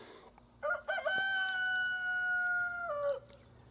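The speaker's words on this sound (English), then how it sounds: "Why is it crowing in the middle of the day?" A rooster crows once during the middle of the day, a clear drawn-out call heard at moderate distance over quiet outdoor background.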